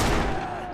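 A Luger pistol in the game Sniper Elite V2 fires one loud, sharp report that fades quickly into a short rumbling tail.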